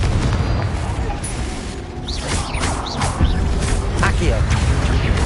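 Confringo spell blasts going off among statues in a Hogwarts wizarding video game, dull booming impacts with crackling debris over a dense, loud game soundscape, while a voice calls out spells.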